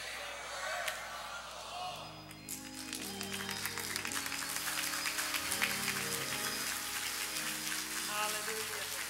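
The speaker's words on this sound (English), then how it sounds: "give her the warm welcome that this little family offers as we receive none other than Dr. Darlene Ni" Church audience clapping to welcome a guest speaker, a dense rustling patter of hands layered over sustained organ or keyboard chords, building after a brief dip and continuing steadily.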